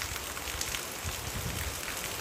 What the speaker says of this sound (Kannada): ಈಗ ಮತ್ತೆ ಮಳೆ ಶುರು ಆಗಿದೆ